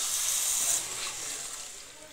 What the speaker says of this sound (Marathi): पाणी टाकून घ्यायचं।